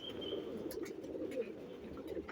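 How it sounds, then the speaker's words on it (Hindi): A female Pakistani pigeon cooing softly, low repeated coos close by over faint background noise, no talking. "पाकिस्तानी कबूतरी है"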